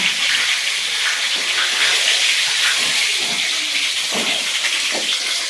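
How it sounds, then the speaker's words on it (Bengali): Pangas fish heads fry in hot oil, giving a loud, steady hiss with scattered sputtering crackles close by. "সুন্দর করে মাছ ভাজা হয়ে গেছে।"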